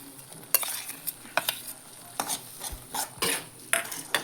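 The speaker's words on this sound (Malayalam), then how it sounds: "നന്നായിട്ട് ഇളക്കി യോജിപ്പിക്കാം." A spoon stirs tamarind curry with jaggery in a pot, giving a series of irregular scraping strokes and soft clinks over a low bubbling simmer, close and fairly quiet.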